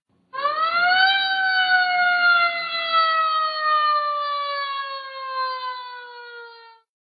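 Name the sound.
ambulance siren arriving at hospital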